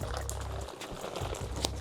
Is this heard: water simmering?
yes